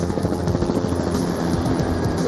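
Police helicopter flying overhead with a steady, loud rotor chop and engine roar that stays close and continuous throughout, with no talk.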